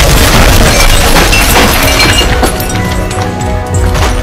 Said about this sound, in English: the light tube in Mark's hand was also smashed on the spot